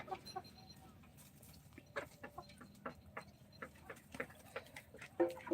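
Farm chickens cluck in short, scattered bursts at a quiet distance, with sharp ticks and scratches between the calls and no talking.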